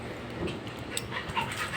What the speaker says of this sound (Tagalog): Ang aming malditang aso.